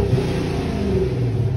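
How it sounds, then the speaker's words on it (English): A 700-horsepower Hemi-powered car's exhaust revving, a deep steady throaty rumble held at close range for a brief moment with no talking. "I want you to have a listen to this wonderful exhaust note here"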